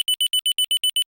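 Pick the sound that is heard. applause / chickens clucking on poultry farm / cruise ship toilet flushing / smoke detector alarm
smoke detector alarm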